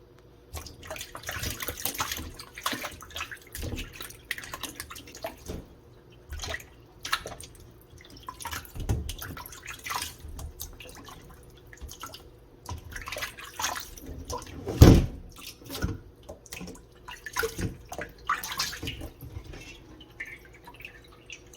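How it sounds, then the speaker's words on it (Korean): Salted Korean melon rinsed under running tap water in a sink, a steady splashing flow with dripping and occasional clunks of handling, fairly close and continuous with no talk. "이제는 염분기 없애주려고 깨끗하게 여러 분 헹굽니다."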